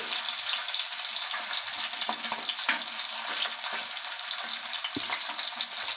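Boiled mutton brain fries in hot oil in a pan with a loud, continuous close sizzle, while a spatula turning it gives occasional soft scrapes and knocks.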